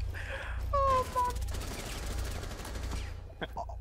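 Gunfire from Rainbow Six Siege, a burst of game gunshots over a constant low hum, with a couple of sharper reports near the end and a faint voice early on.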